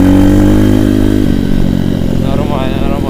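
A pit bike or a motorcycle (an Avantis 150 pit bike or a Cobra Crossfire 125) revs loudly and close by. A low engine drone shifts into a rougher, rising rev partway through, with speech mixed in.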